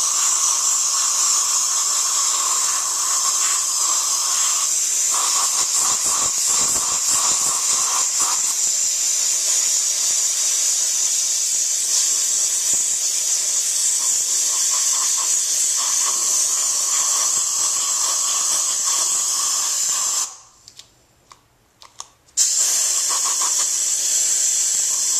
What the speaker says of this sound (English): Blow the cup out.